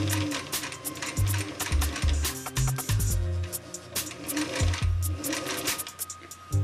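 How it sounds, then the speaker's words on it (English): A home sewing machine runs straight basting stitches through fabric with no backstitching, in uneven bursts that speed up and slow down, loud and close, with no talking. "I'm still kind of getting used to the speed of my machine."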